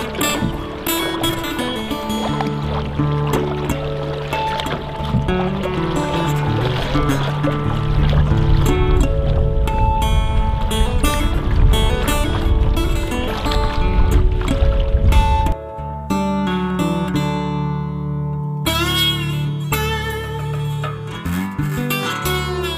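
Canoe paddling across Moose Lake, a steady wash of water and paddle sounds beneath a continuous layer of music, the whole sound dense and constant with a brief shift partway through.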